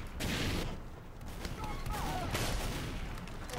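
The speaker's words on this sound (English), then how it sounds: "I love the flare gun." Flare gun fire from a Pyro in Team Fortress 2 on Badwater, with popping shots and whooshing flares amid busy battle noise and distant gunfire throughout.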